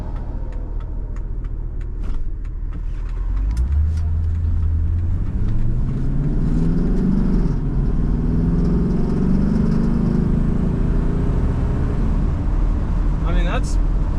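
A 1970 Mercedes-Benz 300SEL 6.3 accelerates hard, its engine note rising steadily from a low rumble to a strained, loud roar that fills the cabin, with a person talking over it.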